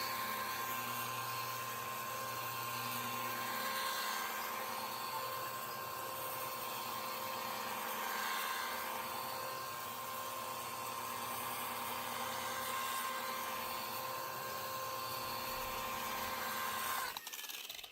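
A power polisher spins steadily on a Buick hood, working compound with a continuous whirring whine close by, its pitch shifting slightly as pressure and speed change, ending with a brief clunk.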